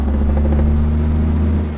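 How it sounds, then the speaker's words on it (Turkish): A steady, low Setra 517 HDH Topclass bus engine drone in Euro Truck Simulator 2 hums continuously at an even pitch, smooth and unbroken, with no voices over it. "Çok güzel geliyor motor sesi."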